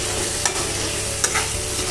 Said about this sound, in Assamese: এতিয়া মই মছলাখিনি দিয়াৰ পাছত ভালদৰে লৰাই আৰু অলপ দেৰি ভাজি লৈছো